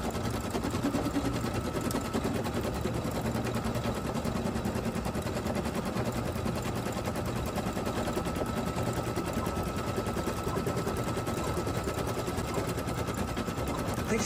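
An embroidery machine stitches a tack-down that circles the hoop several times, a fast, steady rattling needle hum running on for the whole stretch at a moderate, even level.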